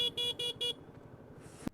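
A car horn honks in four short, loud, evenly spaced blasts while a motorcycle rides through traffic, followed by steady engine rumble and a brief thump at the end.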